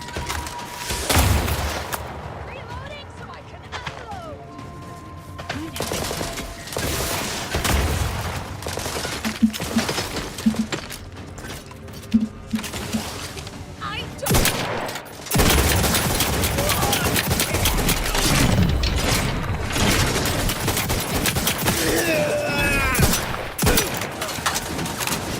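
Gunfire in the video game Outer Worlds 2 comes as repeated sharp shots and bursts, loud and close, scattered across the scene with rapid volleys and heavy impacts throughout.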